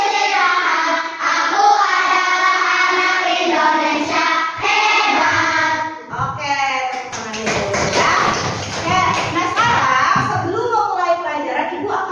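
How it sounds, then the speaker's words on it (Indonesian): Indonesian schoolchildren in a classroom chant the 'tepuk' rhythm together, their high voices loud and close, with a burst of rhythmic hand clapping joining in partway through. "kita tepuk 7 kebiasaan anak Indonesia hebat dulu ya"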